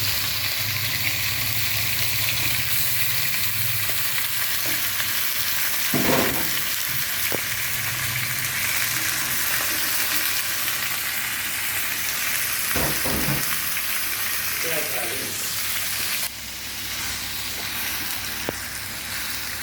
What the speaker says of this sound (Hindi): इसको आपने फ्राई करना है कि ये अपना कलर जो है वो थोड़ा सा जो है वो छोड़ दे